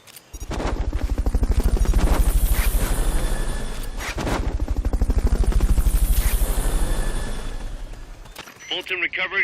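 Fulton recovery helicopter from the video game Metal Gear Solid Peace Walker, its rotor chopping loudly in a steady rhythmic pulse that swells and dips before giving way to other game sounds at the end.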